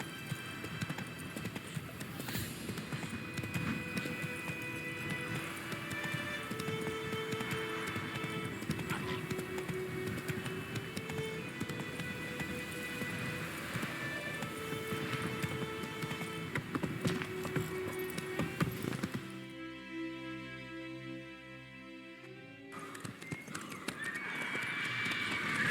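Roach the horse gallops in The Witcher 3 with steady rhythmic hoofbeats over a low game score. A neigh comes near the end, and a short quieter tonal passage breaks in partway through.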